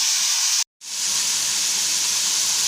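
Mint and coriander leaves sauté in a pan with a continuous loud, bright sizzling hiss, broken by one brief moment of near-silence before the sizzle resumes.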